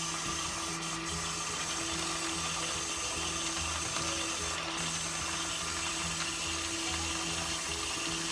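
Tap water running steadily into a pot of soaking pinto beans, a continuous close splashing wash with no talking.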